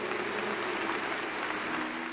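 A church congregation at a Catholic priest's sermon claps together in sustained, dense applause that holds evenly for a couple of seconds.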